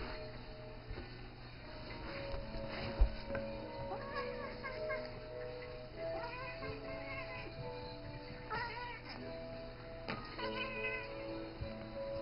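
A male cat meows in short bursts while playfighting with a toy indoors, the cries scattered over a low steady hum, with a person talking quietly at times.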